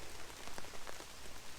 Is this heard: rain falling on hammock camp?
yes